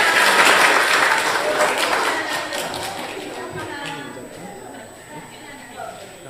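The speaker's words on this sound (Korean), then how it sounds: "박수 한번 해주세요." Applause from an audience at a children's event, strongest at the start and gradually thinning out, with scattered taps and a voice talking over it.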